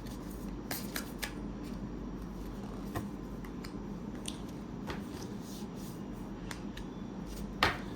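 Tarot cards are handled and drawn by hand: soft shuffling and rubbing with crisp little snaps and flicks as cards slide and are pulled from the deck, close and quiet.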